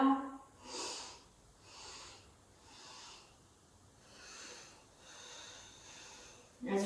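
Deep breathwork breaths taken close to the microphone form a slow series of soft, airy inhales and exhales that rise and fall in gentle swells, quiet and unhurried.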